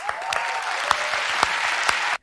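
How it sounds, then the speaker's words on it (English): A studio audience applauds in a dense, steady burst of clapping that holds evenly for about two seconds and then cuts off abruptly. "Give a round of applause."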